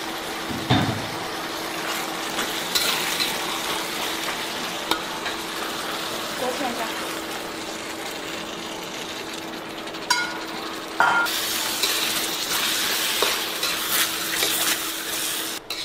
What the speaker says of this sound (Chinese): 和辣椒下锅。